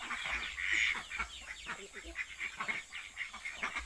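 Ducks and chickens at a farm pen at feeding time, a loud honking quack early then repeated faint clucks and quacks in a quiet, somewhat distant scene.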